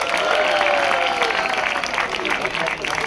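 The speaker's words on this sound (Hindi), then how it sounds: "नेगी सर के लिए जोरदार तालियां हो जाएं।" A large audience claps steadily and loudly at an International Day of Persons with Disabilities prize ceremony, honoring second-prize winner Narendra Singh Negi. The dense, continuous clatter carries faint voices and crowd murmur throughout.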